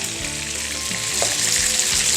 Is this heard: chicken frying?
yes